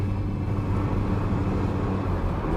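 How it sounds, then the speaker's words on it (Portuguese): Loud, steady intake roar from a right-hand-drive Ferrari 308 Vetroresina, a continuous deep engine drone with airy induction rush, even and close throughout without talk. "você consegue ouvir um pouco do som da entrada de ar nesses carros com volante à direita"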